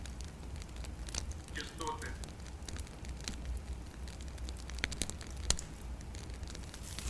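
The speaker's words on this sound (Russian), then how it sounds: "Треск поленьев." Logs crackling in a fireplace, a steady bed of small pops and snaps running throughout with a few sharper cracks standing out, and a brief tonal sound near the start.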